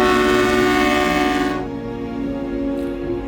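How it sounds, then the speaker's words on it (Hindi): The Shimla toy train arrives at a station in winter, sounding a loud, sustained horn blast that cuts off partway through, leaving rumbling wheels and engine noise, with a faint brief whistle-like tone near the end. "अब हम स्टेशन की खूबसूरती देख ही रहे थे कि इतने में उधर से ट्रेन आती है।"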